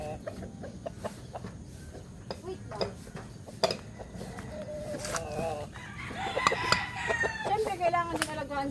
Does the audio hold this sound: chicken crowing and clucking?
yes